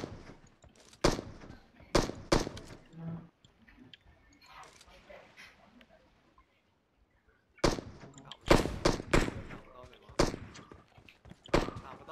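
Gunfire in a video game battle on a bridge: sharp shots crack in quick clusters, then fall quiet before another run of rapid bursts, with players talking between them.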